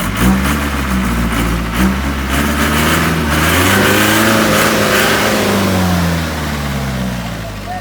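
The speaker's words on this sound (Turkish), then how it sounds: "O yüzden arabayı buraya geri geri yaklaştıracağım bir araba." A car engine revs and hums steadily while the vehicle reverses slowly in a hazelnut orchard, pitch rising and falling with the throttle, close and fairly loud with a voice speaking over it.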